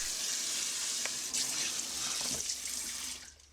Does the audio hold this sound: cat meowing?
no